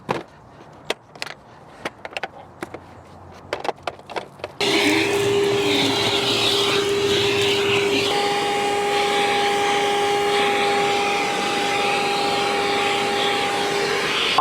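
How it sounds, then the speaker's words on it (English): A few scattered clicks and knocks, then a vacuum cleaner switches on with a loud, steady whine and hiss that runs continuously, its pitch holding constant. "All right, let's do the vacuum."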